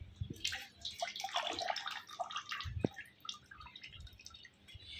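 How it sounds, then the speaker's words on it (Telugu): Water poured into a container for a village gongura chutney preparation, giving a trickling, splashing run with a few brief drips, moderately close and fairly quiet, no talk. "దీంట్లో కొంచెం నీళ్ళు పోస్తున్నా."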